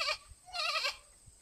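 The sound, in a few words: storyteller imitating a goat bleating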